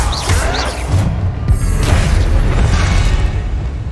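Bombarda spell explosion in Hogwarts Legacy, a loud booming blast with a crashing burst that lingers as a dense rumble for several seconds.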